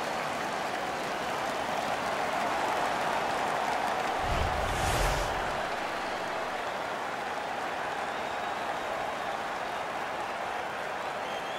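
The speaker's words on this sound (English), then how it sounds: "The crowd is ecstatic." An arena crowd roars and cheers at an NHL 15 ice hockey game after a fight, a broad sustained wash of noise with a brief louder swell midway.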